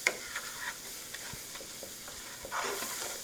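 Butter and two tablespoons of flour cook in a pan into a roux for white sauce, a faint steady sizzle with a few soft stirring scrapes and clicks, close and quiet, swelling slightly near the end.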